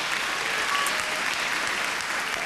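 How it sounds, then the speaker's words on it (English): Studio audience applauding a singing contestant on a televised vocal competition, steady even clapping heard at a moderate distance with no voices over it. "But another round of applause,"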